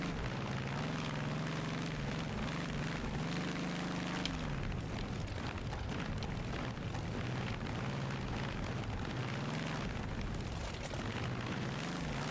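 A DB605 aircraft engine in the BeamNG.Drive driving game runs continuously, a loud, steady droning roar with rising and falling pitch as revs change, rough crackling texture throughout and no voices.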